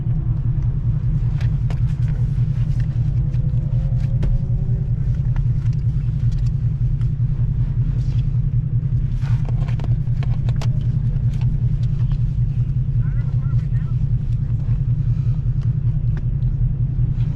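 A Ford Mustang rolls slowly around a race track, its steady low engine rumble and road noise droning continuously without strong revving.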